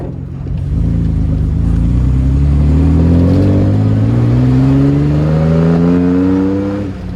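An Austin Healey 3000 BJ8 engine revs hard and accelerates through rising gear pitches, loud and close, building steadily over several seconds with no talking.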